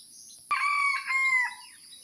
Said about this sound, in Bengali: দেখেন এর ডাকে আশেপাশে মোরগগুলো ডাক দিতেছে।